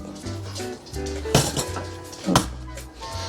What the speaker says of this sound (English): I'm just going to run a knife down the sides so it doesn't rip the bread as it's coming out